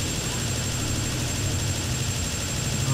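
Helicopter in TimeSplitters 2, Siberia 1990: a constant loud whooshing rotor and engine drone with a dense hiss, steady and close throughout.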